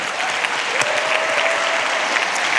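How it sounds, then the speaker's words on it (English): A crowd applauds at a motivational talk about UFC fighter Kamaru Usman, a loud, even wash of clapping that holds steady from start to finish with no voices. "Let's give them a round of applause"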